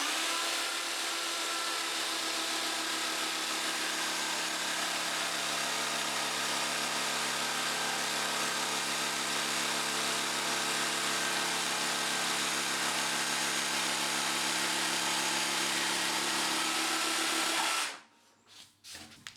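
A jigsaw cuts steadily along a marked line to a corner, making a loud continuous buzzing rattle of the reciprocating blade that stops abruptly near the end.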